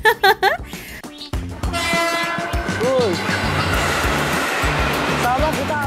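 Train horn sound effect blasts loud and sustained, layered with a rushing roar of rail noise, following a few short percussive hits at the start.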